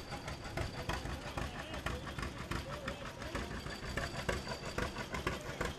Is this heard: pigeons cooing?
no